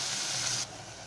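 Onions frying in a pan with curry leaves for a chapati kurma, a steady close sizzling hiss that cuts off abruptly partway through and leaves a quieter sizzle behind.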